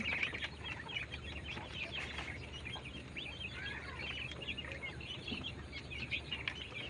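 Many European White Giant Coturnix quails chatter and cluck continuously at a steady, moderate distance, a busy flock of soft calls with no voices.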